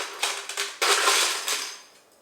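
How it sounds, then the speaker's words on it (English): Ice cubes tumble into a cocktail shaker cup for a whiskey sour, several quick rattling clatters followed by a fading jingle. "I'm going to put some ice in there."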